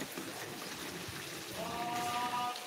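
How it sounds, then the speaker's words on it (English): Water pours into a homemade antiseptic mixture, 500 millilitres going in as a soft, continuous trickling splash, close and fairly quiet, rising slightly toward the end. "500 mils of water going in."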